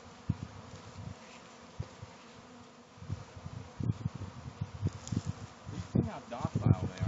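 Swarm of honey bees buzzing steadily while being hived into a box outdoors, a dense continuous drone with people talking over it at close range.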